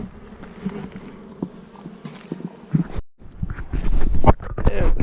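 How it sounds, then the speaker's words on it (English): Bees buzz steadily around a hive box as the beekeeper fills boxes, with intermittent knocks and handling noises growing louder near the end, and no one speaks. "I'm gonna work on filling my boxes up with bees."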